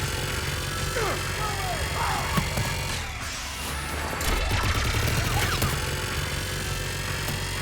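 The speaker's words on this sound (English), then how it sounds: "Just following the gunfire." Gunfire during a Mass Effect 3 combat scene, with dense continuous shots and impacts under a constant roar of game effects and music, loud and unbroken throughout.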